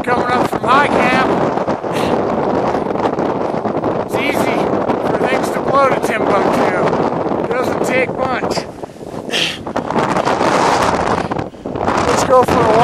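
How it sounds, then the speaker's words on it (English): Strong gusting wind at a high camp on Mount Everest buffets the microphone with a loud, continuous roar, and a voice talks over it throughout. "with the wind coming up from my camp"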